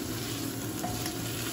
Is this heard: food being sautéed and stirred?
yes